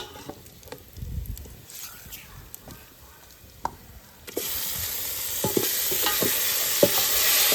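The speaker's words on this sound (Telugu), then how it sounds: "మ్యారినేట్ అయిన చికెన్ వేసుకొని ఇట్లా బాగా మిక్స్ చేసుకోవాలి" Marinated chicken for biryani is stirred in a pan over a village cooking fire: soft scraping and stirring at first, then a loud, steady frying sizzle surges in and keeps building, with occasional utensil clinks.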